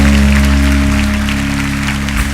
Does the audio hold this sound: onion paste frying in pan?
no